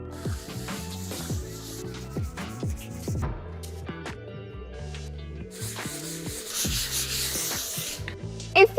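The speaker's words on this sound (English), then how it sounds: "Give everything a light sand." A wooden window frame getting a light sanding by hand, with close rubbing and scratchy strokes in a loose rhythm while soft background music plays.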